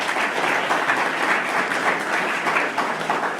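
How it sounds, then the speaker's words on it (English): An audience at a youth-led Sikh event at the BC Parliament in Victoria applauds, a continuous wash of clapping holding steady from start to finish. "I applaud every young person here today."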